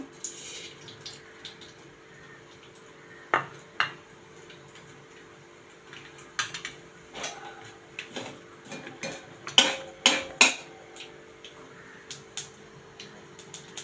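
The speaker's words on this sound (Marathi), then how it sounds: "मोहरी चांगली तडतडली" Mustard seeds crackle in a spoonful of hot oil as tempering for varan bhat. Scattered small pops and snaps come at irregular intervals over a quiet background, some sharper and closer together near the end.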